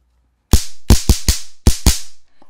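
Six sharp electric snaps from a weak, low-charge stun gun crackle in quick, uneven succession, loud and close, with short silences between bursts and no voices.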